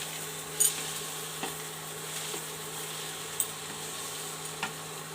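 A mixture is stirred with ghee in a pan, heard as a steady, quiet frying hiss broken by a few brief clinks of the spoon against the pan.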